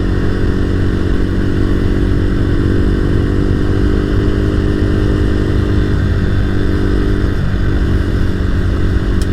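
A dirt bike on a group adventure ride with a Ulysses Club motorcycle section, its engine running loud and steady throughout at close range, with a faint clatter near the end.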